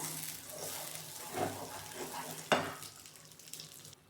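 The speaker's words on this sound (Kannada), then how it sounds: "ತುಪ್ಪ ಹಾಕ್ಬಿಟ್ಟು ಮತ್ತೆ ಇನ್ನೊಂದು ಎರಡು ನಿಮಿಷ ಮಿಕ್ಸ್ ಮಾಡಬೇಕು ಅದನ್ನು" Thick Mysore pak mixture being stirred with ghee in a hot pan, a soft scraping sizzle with a sharp clack of the spoon against the pan partway through, close and steady with no voices.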